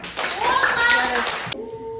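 Schoolchildren clapping hands in a classroom, a quick burst of brisk applause lasting about a second and a half before cutting off, close and fairly loud, with a voice mixed in.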